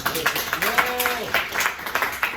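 An audience at a theatre show claps for a guest named Carly from Utopia, a quick burst of scattered handclaps throughout, with a voice speaking over the middle.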